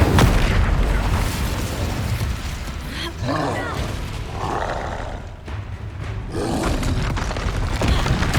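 An Incendio fire spell cast in the video game Hogwarts Legacy, roaring whooshes and booming bursts of flame over a dense, loud game soundscape, with several surges across the stretch.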